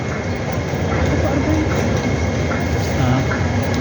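A train rumbles steadily through a busy station, a constant loud roar with faint clicks, heard from a nearby platform area.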